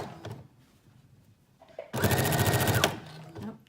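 After quiet fabric handling, a sewing machine runs in one short close burst of about a second along a 5/8 inch stitching line on a teddy bear jacket shoulder.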